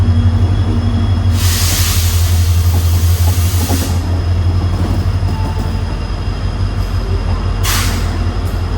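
At night a Vande Bharat express train roars past the moving Panchaganga Express in coastal Karnataka, heard from on board as a loud, close, continuous rumble and clatter with bursts of rushing air.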